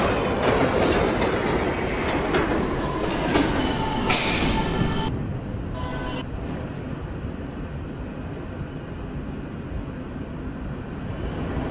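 A Roblox video game subway train runs steadily with rhythmic clickety-clack and rumbling, a brief bright hiss of air midway, continuous and fairly close.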